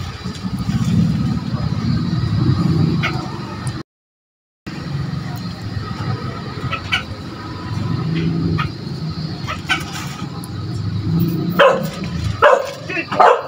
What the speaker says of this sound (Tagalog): nakisali na rin po ang aking aso